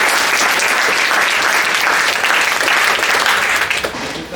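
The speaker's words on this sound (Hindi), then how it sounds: "बाकी सबके लिए जोरदार तालियों से।" Loud, dense applause from an audience at a university yoga session, steady clapping that fills the space and tapers slightly at the end.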